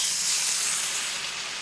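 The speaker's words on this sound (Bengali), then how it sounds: "এবার এর মধ্যে গরম জল আমি দিয়ে দিচ্ছি।" Hot water hits a pan of frying brinjal and potato, giving a loud, steady steam hiss and sizzle that fades slightly toward the end, close by with no talk.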